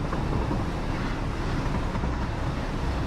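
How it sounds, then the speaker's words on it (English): Train in Satisfactory speeding down a spiral track, a continuous loud rolling rumble and rattle that holds steady throughout. "if that was a real train it would have come off by now"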